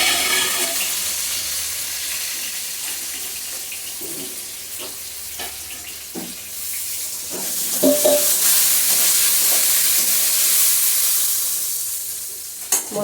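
Coconut flower cooking in a pan with salt and turmeric, sizzling steadily throughout while a utensil stirs it with occasional scraping clicks, close and fairly loud with no talking.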